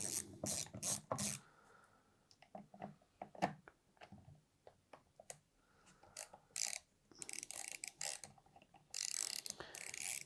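A trolling fishing reel is worked with a screwdriver, giving quiet irregular ratcheting clicks and small metallic scrapes, close and alone, with brief louder rustling bursts.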